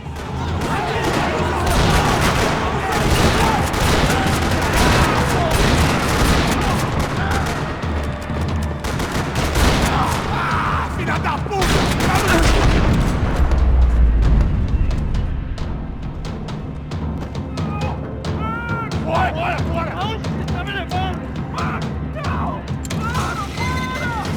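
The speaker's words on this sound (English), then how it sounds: "Another parking lot rattling with gunfire." Dense, continuous gunfire in a parking lot in Max Payne 3, with crashing impacts and rattling bursts, mixed with game music and effects, staying loud throughout.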